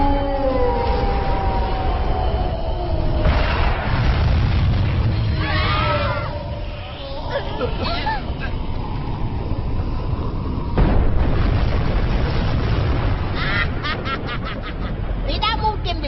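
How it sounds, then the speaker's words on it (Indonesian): In a Doraemon movie, whooshing, rising synthetic energy tones build and burst into booming explosions, loud and chaotic, with voices speaking over parts of the action. "Tembakan gelombang ultra aktifkan."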